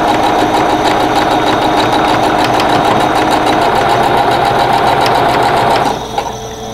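A sewing machine runs steadily and loudly, stitching quilt block units for an Old Maids Puzzle block in a fast, even rhythm, then slows and stops near the end.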